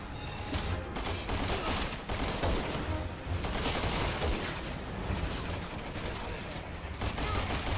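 Gatling gun fire in the video game Resident Evil 6 rattles in long sustained bursts with short gaps, loud and dense, mixed with other battle noise.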